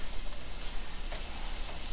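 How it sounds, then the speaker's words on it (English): Steady, dense sizzling of ground beef frying in a hot pan, a constant crackling hiss with occasional faint stirring sounds as it is broken apart, close and continuous. "Now I can see it's sizzling, breaking it apart."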